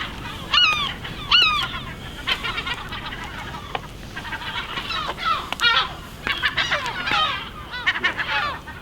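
Cormorants call repeatedly at a nesting site on an abandoned Scottish island, a ragged chorus of harsh, honking croaks rising and falling over several seconds, some calls close and loud, others fainter behind.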